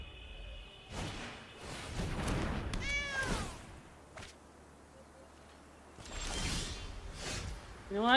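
A cat meows in a few short, bright calls amid rustling and swishing handling sounds, close to the microphone.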